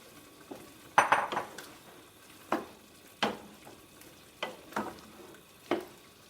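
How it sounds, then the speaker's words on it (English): Peppers are added to a hot pan for a vegetable pasta dish and stirred: clanks and scrapes of utensils against the pan under a low, steady sizzle, with several distinct knocks spread across the clip. "Now I'm going to add peppers."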